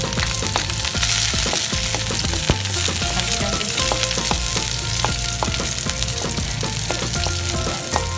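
Garlic sautéing in a pan while mung bean sprouts are being prepared, a dense, steady sizzle with scattered crackles and utensil clicks running loud and close for the full length, no voices.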